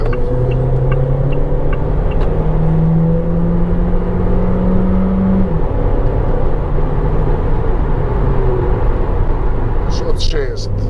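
A BAIC X75 SUV engine revs up steadily under acceleration, its rising drone climbing for several seconds before a gear change, with road and cabin noise throughout and someone talking over it.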